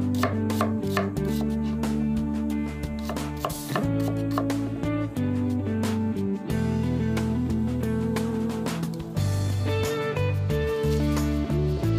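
A knife slices onion on a cutting board in a home kitchen, the onion meant for frying in olive oil with garlic; steady, rhythmic close chopping taps run throughout, alone with no talk.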